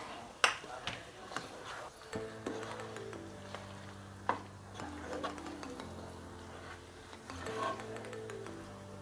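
Fried chicken stirred into biryani masala in a pan, a quiet scraping and clinking of the spoon with soft sizzling, a few sharper knocks against the pot, and a low steady hum throughout.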